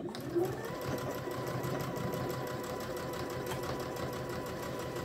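A sewing machine overlocks the edge of fabric that tends to fray, running in a steady, close mechanical whir with rapid stitching pulses, while a person talks briefly underneath.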